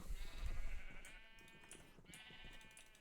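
Sheep bleat in a modded video game, a low rumble giving way to two drawn-out wavering bleats, fairly close and alone without talk.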